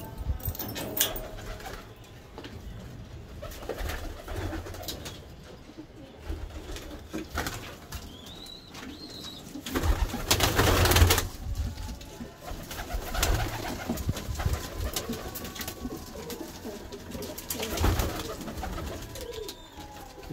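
Pigeons coo in a newly built breeder cage setup, soft repeated coos rising and falling against a busy background with wing flaps and rustling, one louder burst of movement midway.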